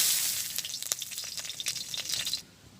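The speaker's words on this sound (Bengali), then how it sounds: "দিয়ে দিচ্ছি 2টো তেজপাতা" Bay leaves crackle and sizzle as they drop into hot oil in a wok, a close, bright frying hiss with sharp pops, while pumpkin waits to be cooked; the sizzling fades quickly near the end.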